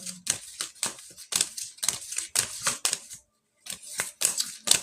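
Tarot cards being shuffled and flicked in quick bursts of crisp riffling snaps, a rapid series with a short pause midway, close and fairly loud with no talk.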